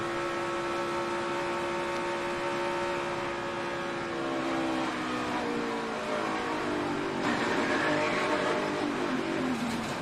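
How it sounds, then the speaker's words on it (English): On-board NASCAR Cup race car at Daytona during a crash, engine note loud and close, its harmonics falling as the driver downshifts to slow, then a brighter surge of engine and wind late in the clip. "He even downshifted, trying to get that car slowed down enough to avoid this accident."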